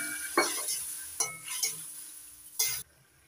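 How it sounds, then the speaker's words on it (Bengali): A splash of water poured into a hot pan of okra and egg curry sets off bursts of sharp hissing sizzle, with a few stirring scrapes and clinks, close and loud before cutting off abruptly. "এবার দিয়ে দিচ্ছি অল্প করে জল।"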